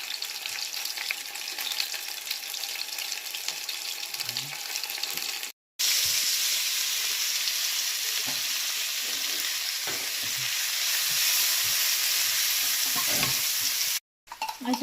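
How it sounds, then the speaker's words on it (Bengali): Onions fry in hot oil in a pan for a home-cooked chicken biryani, a steady bright sizzle broken by two brief gaps, with occasional stirring scrapes and no speech over it. "আচ্ছা পেঁয়াজ ভাজা হয়ে গেছে"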